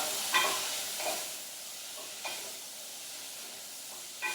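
Drained broad beans sizzle in a hot pan with chorizo for a risotto base, a soft frying hiss broken by a few brief scraping stirs.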